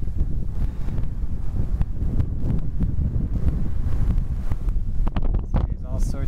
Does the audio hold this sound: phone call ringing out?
no